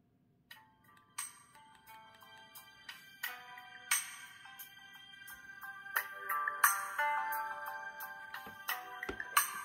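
A tinny electronic melody plays as an MP3 from a Casio G'zOne Type-XX mobile phone speaker, bright bell-like notes in a steady tune that grows slightly louder, with no voices.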